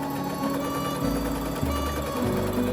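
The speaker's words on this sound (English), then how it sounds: "before I now go and sew it in" A sewing machine stitches a dart into a vintage velvet holiday dress, its motor running in a steady, close whir with small shifts in pitch and no talking.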